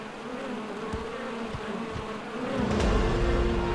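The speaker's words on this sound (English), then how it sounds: "Do I have to deal with these bugs all the time?" Steady buzzing of video game bees swarming close by near a beehive, a continuous drone with a few sharp thumps, growing slightly louder toward the end.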